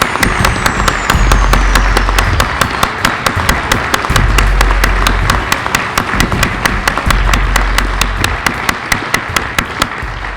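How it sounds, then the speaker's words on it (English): Audience applause at a police promotion ceremony, steady loud clapping from a large crowd continuing for about ten seconds with sharp individual claps standing out. "Please join me in a round of applause for our newly promoted sergeant and lieutenant."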